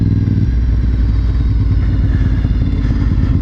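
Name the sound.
Honda motorcycle riding on a test drive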